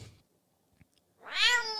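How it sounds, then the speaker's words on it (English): After near silence, one short, high-pitched cat meow, pitched up for game trailer music, rises and trails off, sounding oddly thin and artificial. "it's not sounding like a real cat anymore, because I pitched it up a little bit"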